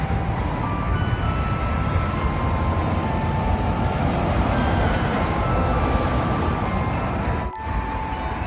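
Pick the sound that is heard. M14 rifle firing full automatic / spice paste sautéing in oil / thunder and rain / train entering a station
train entering a station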